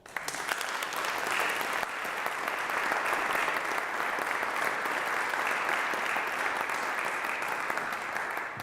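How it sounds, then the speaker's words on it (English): A church congregation at an annual meeting breaks into sustained, loud applause, a dense wash of clapping hands that continues steadily throughout. "So that's worthy of applause."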